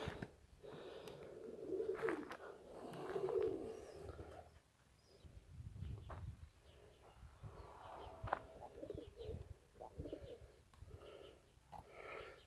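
Homing pigeons coo softly in a quiet outdoor loft area while the birds fly overhead, with faint wing flutters and scattered rustling in the background.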